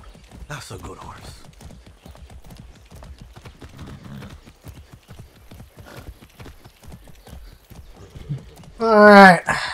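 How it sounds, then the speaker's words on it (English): Horse hooves clip-clop steadily in Far Cry 6 gameplay, a regular moderate beat running under continuous talk, with a loud burst of other game sound near the end. "Let's go, horsey. That's a good horse."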